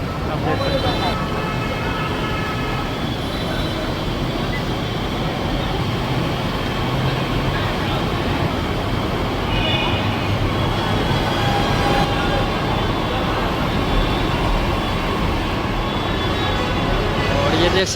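A Patna Metro train runs continuously, with a loud, steady rumble of wheels and carriage noise from inside the car, faint squeals and rattles on top, and a voice talking under it.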